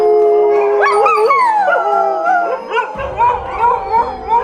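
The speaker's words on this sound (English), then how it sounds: "And the dogs are still going crazy." Several dogs in a dog shelter howl together in long, wavering cries that break into yips and barks, loud and close, with no one talking.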